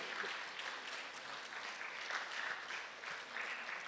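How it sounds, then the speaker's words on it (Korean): An audience at a Korean stage event applauds, a faint, steady wash of distant clapping that holds evenly throughout without any voices on top. "한번 박수 한번 쳐보세요."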